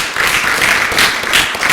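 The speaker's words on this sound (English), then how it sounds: "That was like a golf clap" A poetry-reading audience gives a light, polite golf clap, a brief patter of hand claps that carries on for under two seconds without talk.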